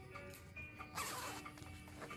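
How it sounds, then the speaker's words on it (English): A zipper is drawn shut on the back of a fringe pillow, giving a close, continuous scratchy rasp that surges louder midway and runs steadily to the end. "from the back, we're gonna close the zipper"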